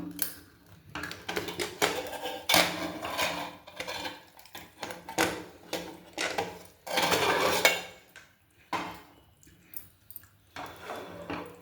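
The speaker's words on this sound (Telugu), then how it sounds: "ఇప్పుడు కుక్కర్ మూత తీద్దాం" A pressure cooker lid is opened after the steam has been released from cooking mutton keema curry, giving a series of close metallic clanks and scrapes of the lid and pot in short irregular bursts, with no talking.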